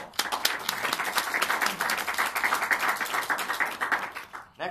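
A small room of classmates claps together after a student's speech, a lively, uneven patter of individual hands close by that swells and fades over a few seconds.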